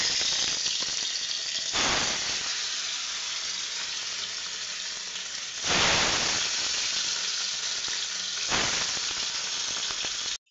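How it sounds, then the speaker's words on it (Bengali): Fish fries in hot mustard oil in a kadai, giving a loud, steady sizzle throughout with three sharper surges of spitting and crackling spaced a few seconds apart. "মাছটা ভাজবো, তেলটা গরম হোক। এক এক করে মাছগুলো ভাজলাম।"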